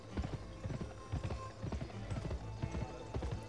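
Horse hooves clip-clopping in the western video game Gun, a steady, fairly close trot of repeated hoof strikes over a low background hum.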